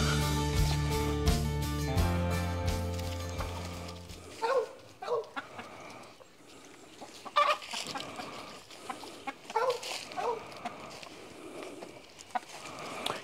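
Chickens cluck in a backyard pen in short, scattered bursts, some close and some further off, with a quiet, still backdrop between calls after a few seconds of music at the start.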